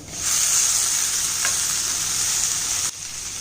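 Oil sizzles steadily in a pan with a bright hiss as onion and tomato fry for homemade Maggi noodles, one soft stir partway through, then the sizzle drops slightly near the end.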